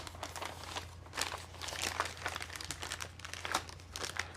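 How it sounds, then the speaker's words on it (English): Plastic packaging covering pulled from a cardboard box holding a Dornier AXIS II cystoscope: close, steady crinkling and rustling with small crackling peaks, no talking. "Pull the plastic covering out."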